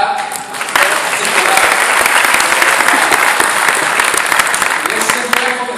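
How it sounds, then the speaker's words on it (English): A startup-pitch audience at a competition event in Istanbul claps together on cue: dense, loud, sustained applause from a large crowd that fills the whole stretch without a break. "Ready, clap."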